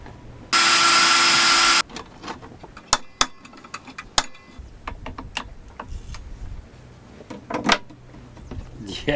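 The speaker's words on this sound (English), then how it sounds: "I just have to drill it out" A power drill bores out a bolt in one loud, steady whine of about a second, followed by scattered clicks and knocks of tools and parts being handled nearby.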